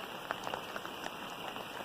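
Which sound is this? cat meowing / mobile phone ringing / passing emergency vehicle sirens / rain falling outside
rain falling outside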